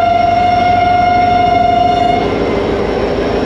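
The Mohen-jo-Daro Express passenger train in Sindh rumbles past loudly while its horn holds one long steady tone for about two seconds, then cuts off and the rolling rumble continues alone.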